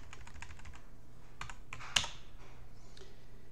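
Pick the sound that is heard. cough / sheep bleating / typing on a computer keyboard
typing on a computer keyboard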